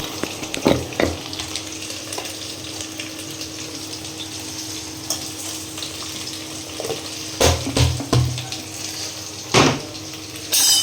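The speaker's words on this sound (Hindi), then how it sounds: "अच्छे तरीके से इसको फ्राई कर लेते हैं" Coriander and mixed spices fry in a pan with a steady crackling sizzle, broken by a few louder scraping stirs near the start and again toward the end; no one speaks.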